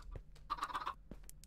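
A Minecraft chicken gives a short burst of clucking, a quick cluster of nasal calls, close and fairly faint against a quiet game background.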